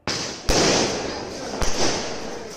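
Fireworks going off at night in Mexico: two sharp, loud bangs about a second apart over a continuous broadband crackling hiss, heard close and alone.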